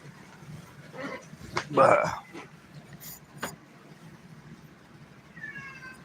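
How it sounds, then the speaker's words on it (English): A cat meows once, fairly close and loud, amid faint background noise and a few scattered clicks and thumps. "I don't know if you can hear him meowing"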